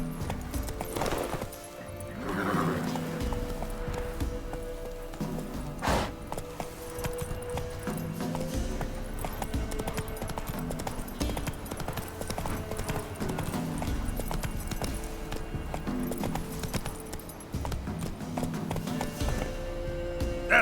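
Geralt's horse Roach galloping in The Witcher 3: Wild Hunt, rapid rhythmic hoofbeats pounding on without pause, close and steady, with faint game ambience beneath and a brief whinny.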